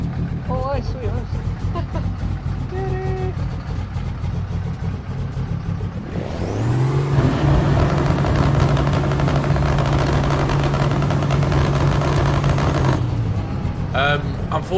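Heavy truck engine fitted with a Cummins sound mod in Euro Truck Simulator multiplayer convoy, idling and then revving up into a loud, sustained drone that holds steady for several seconds before dropping off, with voices chatting before and over it.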